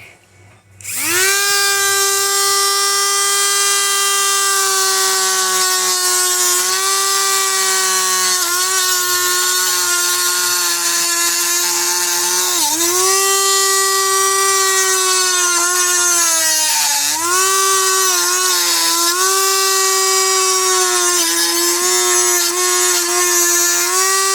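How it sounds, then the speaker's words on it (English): A Dremel rotary tool runs continuously while cutting plastic container lids for a DIY puppy wrist brace, a loud high-pitched motor whine that shifts in pitch as the cutting load changes, close and steady for over twenty seconds with no talking. "I've been using my Dremel to go around and cut these"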